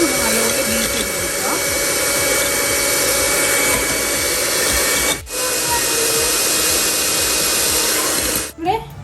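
Electric hand mixer beating separated egg whites for a Christmas plum cake, a steady loud whirring drone that runs continuously and close up, with a couple of brief dips near the end.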